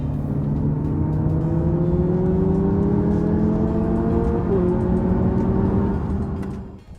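A 2025 Lexus UX 300h F Sport hybrid accelerates onto a highway, its engine a steady loud drone whose tone climbs smoothly through the gears, with road and wind noise beneath, heard from inside the cabin until it fades at the end.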